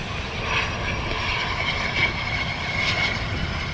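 A NetJets Embraer Phenom business jet at Southwest Florida International Airport (RSW), a steady engine roar with a broad rumble and faint tonal whine, sustained at moderate distance for a few seconds.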